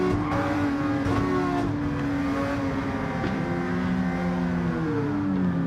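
Red Jaguar E-Type racing in Gran Turismo 7, its engine droning steadily with rising and falling revs through gear changes, loud and continuous with no voices.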